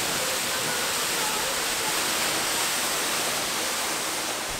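Waterfall at Milford Sound, heard from a boat at its bow almost underneath the falls: a loud, steady broadband roar of crashing water that stays constant throughout with no break.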